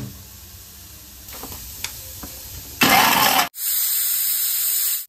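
An electric kitchen mixer grinds masala for Marathwada-style chicken curry with a loud, harsh whir in two bursts: a short run, a brief stop, then a longer steady grind, after quiet kitchen handling noises.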